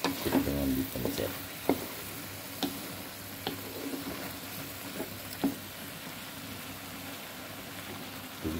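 Long beans and tempeh stir-frying in a pan, a continuous soft sizzle with occasional clinks and scrapes of a utensil, a louder stirring burst at the start.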